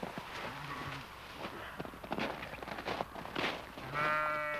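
Sheep bleating on a farm, a few short bleats scattered over a quiet background with faint shuffling, then a louder, drawn-out bleat near the end.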